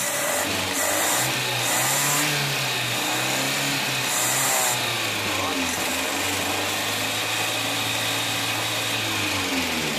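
A carbureted car engine idles steadily with no fuel diffuser fitted, a loud, close, continuous low hum with a faint periodic whine on top, running alone the whole time.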